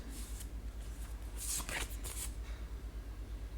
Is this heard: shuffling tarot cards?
yes